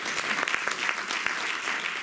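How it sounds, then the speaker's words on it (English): Lecture audience applauds in a short burst of moderately loud, irregular clapping, individual claps standing out within the steady patter. "You probably get an extra round of applause."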